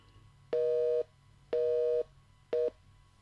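A telephone busy tone on a radio call-in line after the caller hangs up: three loud, steady beeps at an even one-second rhythm, the last one cut short, with no voices.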